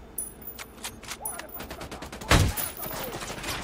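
Gunfire in the shooter Ghost Recon Wildlands: a rapid string of sharp shots of varying loudness, capped by one loud close blast, with a voice speaking briefly amid the firing.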